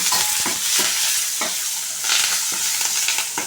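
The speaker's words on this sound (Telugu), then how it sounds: "ఇప్పుడు ఒకసారి దీన్ని కలుపుకున్నాము" Carrots with salt and turmeric are stirred in a frying pan, giving loud, close scraping strokes every half second or so over a continuous sizzle.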